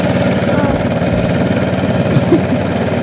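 A boat engine drones steadily and loudly on a backwater trip at Sambranikodi, Kollam, a constant low rumbling hum with no pauses and no voices.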